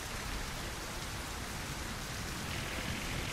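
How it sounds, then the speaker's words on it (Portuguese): Steady rain falling in the video game My Summer Car, a dense, even hiss of drops spread evenly over the whole stretch, fairly loud and close with no voices or other sounds on top. "A chuva continua mocota, ó."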